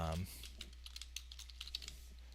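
Soft, quick clicks of typing on a computer keyboard, faint and close, in an irregular rhythm over a low steady hum, after a brief voice at the start.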